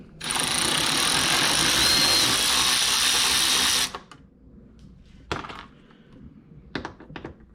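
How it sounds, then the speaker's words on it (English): A powered ratchet removes two 8mm bolts on a 2018-or-newer Honda Accord during tail light work, giving a steady high whir for nearly four seconds, then a few close clicks and knocks. "Okay, I gotta pull these two bolts. They're 8mm."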